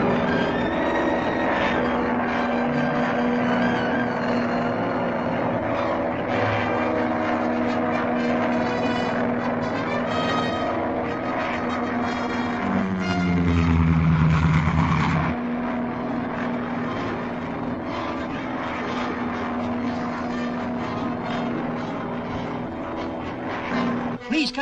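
A propeller airplane engine drones steadily in flight throughout a vintage radio drama, a continuous loud hum with a brief swelling pass midway, heard beneath urgent radio-call dialogue.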